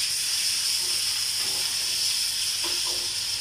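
Fish frying in a pan gives a steady hissing sizzle, close and constant, with faint clinks and shifts as pieces are turned over one by one.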